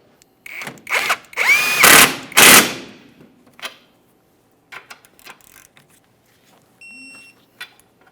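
A power drill or impact tool tightens the rear strut bolts on a 2007-2017 Mitsubishi Lancer 2.4L in a loud whirring burst lasting about two seconds, followed by fainter clicks, taps and a few short electronic beeps.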